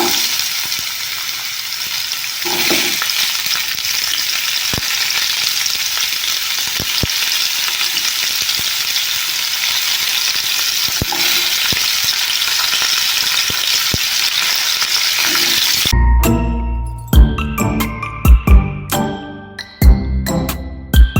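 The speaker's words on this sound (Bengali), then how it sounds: "তো মটর আলু সাজনাটা আমি ভাজা করব" Drumsticks, potato and peas fry in a pan with a loud, steady sizzle for most of the time, then give way to clattering stirring knocks near the end.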